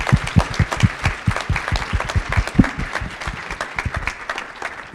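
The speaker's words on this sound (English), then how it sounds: "Let's give a round of applause to our panelists." An audience applauds panelists at the close of a workforce summit breakout session; dense, close hand clapping starts strong and gradually thins out and fades over a few seconds.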